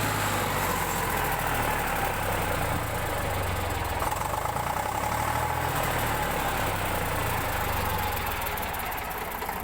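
An old Eicher 368 Super tractor without a radiator idles up close, its engine giving a steady, loud, rhythmic knocking chug that holds evenly throughout with no talk.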